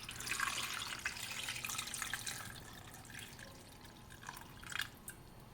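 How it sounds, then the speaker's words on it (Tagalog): Two cups of water poured into a cooking pot holding pompano fish with tomatoes and onions: a faint, continuous splashing trickle with a few drip-like spatters, quiet and without speech. "Maglalagay tayo ng tubig ng 2 cup."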